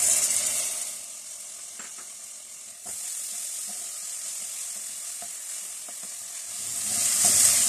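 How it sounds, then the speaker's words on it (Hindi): Steady sizzling of garlic and ginger paste frying in a hot pan, with occasional soft stirring clicks and scrapes; the sizzle swells louder near the end. "लहसुन अदरक के साथ थोड़ा सा भून लेने के बाद"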